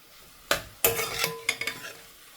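A spoon stirring bottle gourd halwa in a cooking pan, with distinct clinks and scrapes against the metal over a soft sizzle, several sharp knocks spaced irregularly and close by.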